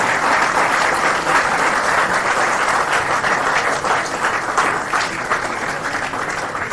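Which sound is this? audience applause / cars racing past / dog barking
audience applause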